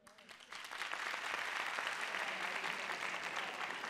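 Applause from a comedy-club audience, welcoming newlyweds in the room, rises sharply after a quiet half-second and holds as a steady, dense wash of clapping.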